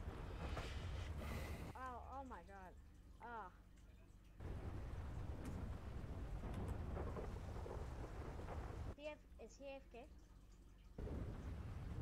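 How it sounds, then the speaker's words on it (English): Thunderstorm with heavy rain in the video game GTA V on a FiveM server: a dense steady roar of rain with low rumbles, and people talking over it in two stretches. "Has it ever rained this bad down here?"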